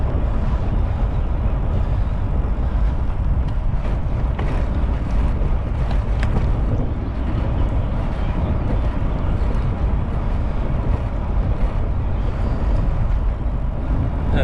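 Strong wind rushing steadily across the microphone while riding a bicycle on a chilly morning, a loud, continuous low roar and buffeting with no pauses.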